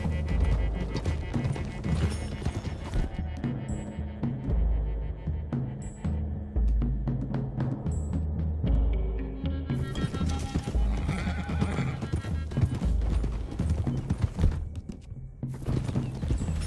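Horses galloping in Red Dead Redemption 2, rapid clip-clop of hooves on a dirt road with occasional whinnies, a continuous ride over game music and rumble, no speech.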